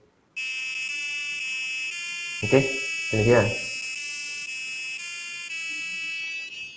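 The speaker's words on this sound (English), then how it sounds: "so that's the birthday sound." A micro:bit V2's built-in speaker plays a birthday melody as a steady run of buzzy electronic tones that changes pitch in steps and lasts several seconds, with a short spoken question from a nearby person partway through.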